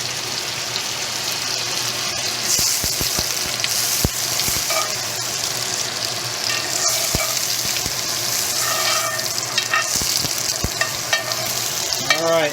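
Butter melting and sizzling in a hot pan before cooking a tomahawk cowboy steak, a steady close crackle and hiss with scattered sharp pops throughout, no talking.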